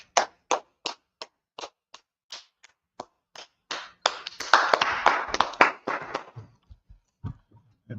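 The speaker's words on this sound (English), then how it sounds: "Clap it up for the class." At a religious class meeting, single sharp hand claps land one at a time in a slow, even beat, then break into a short burst of group clapping before trailing off into a few scattered claps.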